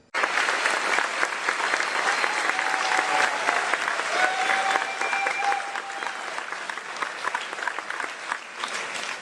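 Audience applause fills a county meeting room in St. Charles County, Missouri, a steady dense wash of many hands clapping close by for the full stretch, with a brief dip near the end.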